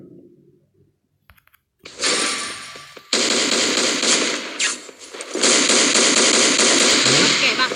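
An AF-12 shotgun fires in the video game Chiến Dịch Huyền Thoại, giving loud, rapid bursts of close shots after a short quiet start, with dense blasts running continuously to the end.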